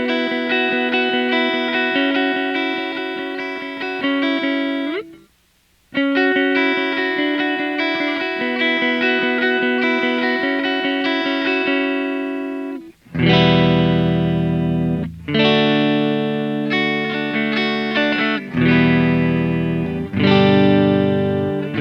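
Electric guitar runs through a small analog effects unit, playing a part with chiming, echoing repeated notes, loud and continuous apart from a brief gap and a few chord changes.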